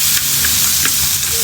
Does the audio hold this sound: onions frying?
yes